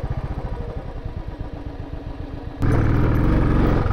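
A motorcycle on a steep mountain trail in Upper Mustang chugs with a rapid, even engine pulse, then revs suddenly into a loud, sustained roar for the last seconds, close and alone.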